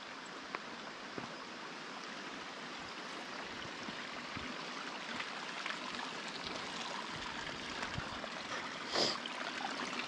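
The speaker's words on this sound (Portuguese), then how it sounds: "É muita chuva, muita água, tá tudo um barral aí." Rainwater streaming across a flooded, muddy ranch after heavy rain, a steady close rushing trickle with a brief splash near the end and no voices.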